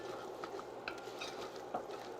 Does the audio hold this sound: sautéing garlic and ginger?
yes